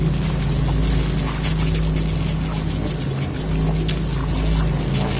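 Water pours continuously in the video game Little Nightmares, a steady rushing splash with a low rumbling undertone that holds at even loudness throughout, with no talk over it.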